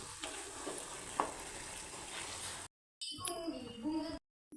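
Coconut rice halwa being stirred in a pan, soft continuous scraping and faint sizzle close by, broken by brief dropouts, with a few quiet sounds of movement and no clear speech.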